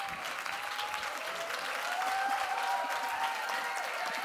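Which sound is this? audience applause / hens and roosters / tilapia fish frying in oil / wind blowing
audience applause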